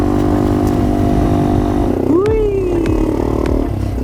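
A Yamaha TW200 dual sport motorcycle riding a twisty road on a trip across the Mojave Desert, its engine a steady close drone that swoops up and down in pitch partway through as the bike leans through the curves.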